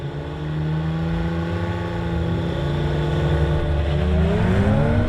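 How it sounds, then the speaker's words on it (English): A 2018 Audi RS5 and an S5 accelerating side by side in a drag race, a loud close engine roar that rises steadily in pitch through the gears, with no voices. "Okay then, let's have a drag race."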